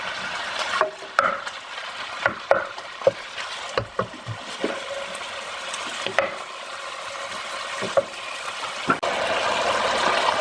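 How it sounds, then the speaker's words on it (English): Two pounds of pasture-raised fresh ground beef browning in a pan, a continuous sizzle broken by frequent scraping and stirring clacks of a utensil against the pan, close and fairly loud. "now I'm gonna brown my 2 pounds of pasture-raised fresh ground beef"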